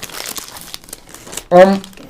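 Sweets packet of dip being opened, its wrapper crinkling in soft bursts before a sharper, louder crinkle near the end.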